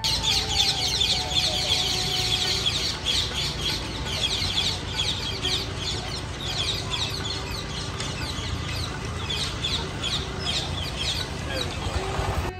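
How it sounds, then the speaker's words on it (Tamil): Birds, probably roosters and other fowl, calling outside a temple at Thiruppullani, with repeated clucks and calls over steady outdoor noise and no speech. "இங்கே இருக்கிற பறவைகள் நம்மளை எப்படி வரவேற்றது அப்படின்றத நீங்கள் கொஞ்சம் கேளுங்க"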